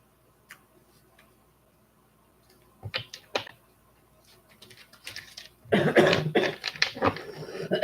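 A few short, sharp coughs come after near silence, followed by a louder, rougher burst of coughing close to the microphone.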